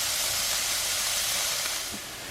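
Thinly cut green onion whites sauté in a pan over medium-low heat as a steady, soft hiss that eases slightly toward the end, with no voices.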